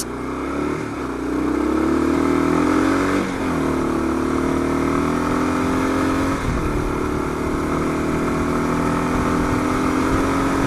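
Kawasaki KLR 650 motorcycle accelerating hard on dirt with rear wheel spin, its engine revving up through several gear changes in rising and dropping sweeps, loud and close throughout.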